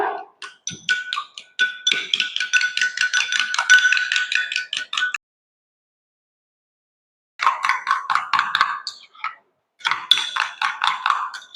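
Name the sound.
mixing curd with a spoon in a bowl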